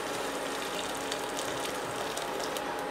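Hot boiling water poured from a cup into tomato juice sauce with softened onions, for a fish and rice tray, making a steady close hiss and gush that runs unbroken for about three seconds with faint sizzling and no talk.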